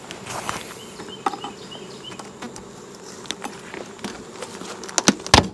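Busy honey bees buzzing around an opened beehive during a hive inspection, a soft continuous drone with scattered nearby thumps and rustles of handling, no talk.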